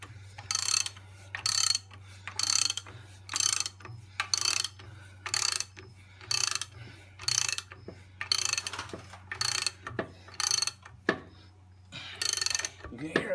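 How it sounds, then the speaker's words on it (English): A puller tool is torqued to pull a Detroit Series 60 12.7 cylinder liner with 1,400,000 miles on it, making a steady series of loud ratcheting clicks. Each burst is followed by a brief pause, over a low hum. "You can hear it popping, coming out, still tight."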